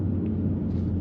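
A 2021 Ford Mustang Mach 1 naturally aspirated V8 pulls hard through the rev band, heard from inside the cabin as a steady, loud low-pitched engine rumble throughout.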